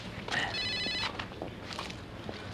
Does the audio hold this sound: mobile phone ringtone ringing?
yes